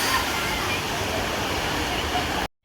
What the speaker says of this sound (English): This is the log flume here at Flambards.